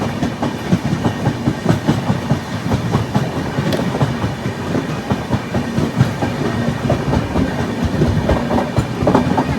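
Kerala Sampark Kranti Express pulling into Roha station on the Konkan Railway, heard from on board as a loud, continuous rumble with steady clickety-clack of wheels over rail joints.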